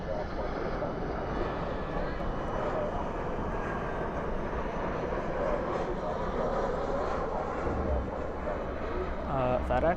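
A FedEx Boeing 767 cargo jet rumbles at Dallas Fort Worth airport at night, a steady broadband engine roar mixed with wind buffeting that holds throughout.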